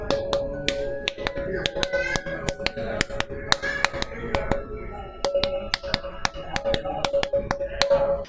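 Carved stone musical pillars in a temple ring out as they are tapped by hand, giving quick, sharp knocks with short ringing tones in an irregular rhythm, near and clear, while people talk in the background.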